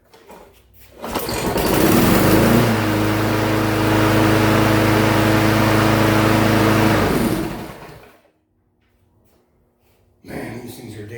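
Craftsman lawn mower engine starting and running, roaring to life after a short pull and holding a loud steady buzz for about five seconds before dying, with someone talking afterward.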